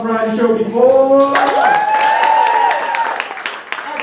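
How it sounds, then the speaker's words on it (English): Audience applause at a live variety show, a crowd clapping loudly and steadily after a short stretch of something tonal, with the applause carrying through to the end. "All right, round of applause."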